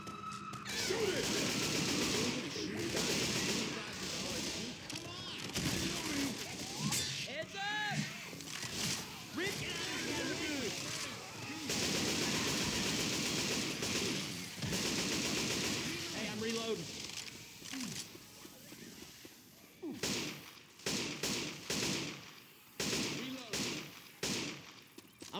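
Rapid bursts of gunfire in the Left 4 Dead 2 video game, dense automatic fire and repeated shots throughout, with players shouting and talking over the shooting.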